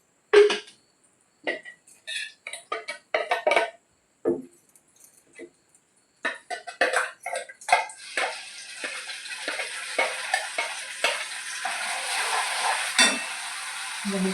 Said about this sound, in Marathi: आता फक्त कट येण्यापुरतं मसाला तळायसाठी तेल वापरणार आहे मी